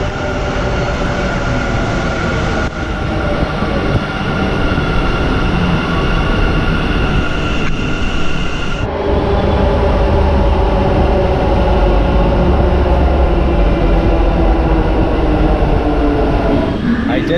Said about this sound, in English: And here is my train.